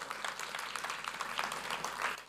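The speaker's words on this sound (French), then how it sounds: "On peut l'acclamer très fort," An audience at a seniors' banquet with gospel music claps in a steady, dense wash of applause that runs the whole time at moderate volume, with no clear voices on top.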